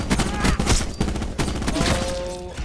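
Rapid bursts of Call of Duty gunfire crackle loudly and close in a dense, overlapping volley, several sharp shots stacking over a couple of seconds.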